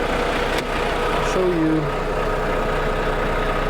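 A Volvo D13 diesel engine idles in a semi truck hauling an RV, a steady low rumble running beneath a man's nearby speech.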